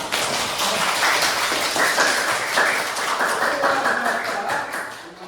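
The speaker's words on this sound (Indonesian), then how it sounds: "Beri tepuk tangan." A class of students applauds, a continuous patter of many hands clapping at fairly close range, steady throughout before easing slightly at the end.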